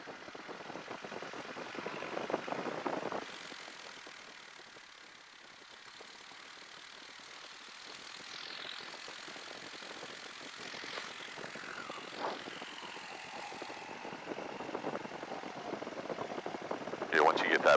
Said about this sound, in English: once you get that prop spinning, it cools off in here a little bit